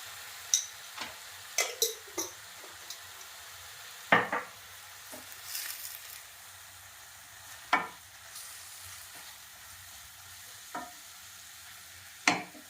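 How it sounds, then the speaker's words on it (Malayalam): Drumstick leaves sauté in a pan with turmeric over high heat, giving a soft continuous sizzle broken by repeated sharp scrapes and taps of a spoon stirring against the pan. "ഫ്ലെയിം ഒന്ന് ഹൈ ആക്കി നമുക്ക് വഴറ്റിയെടുക്കാം"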